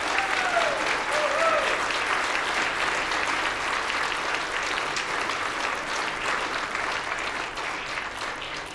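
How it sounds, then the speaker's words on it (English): A crowd applauds a cadet band with steady, dense clapping that fills the whole stretch, loud and continuous from start to finish and tapering only slightly near the end. "So give them another round of applause,"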